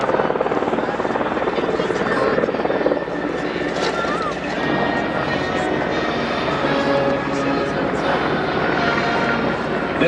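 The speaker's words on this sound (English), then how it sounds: "This helicopter is equipped with a CPG system." Apache attack helicopter with twin General Electric T700 turboshaft engines, heard as a steady, loud, broadband rotor and turbine roar that holds throughout, with a brief dip in level partway through.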